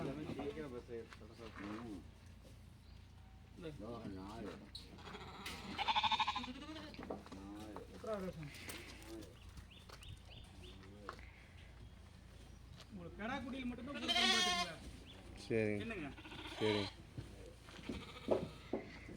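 Sheep and young lambs bleat on a small farm in a series of quiet, wavering calls spread through the stretch. People talk in between and over the calls.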